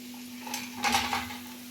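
Curry leaves drop into hot oil with dried red chillies while a dried lemon pickle is being made, setting off a short burst of sizzling and spattering that swells, then settles back into a low steady hiss.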